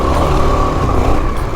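A 1984 Honda XL600R dual sport motorcycle pulls hard under acceleration, a loud, close, rough single-cylinder roar held for a moment with wind rush.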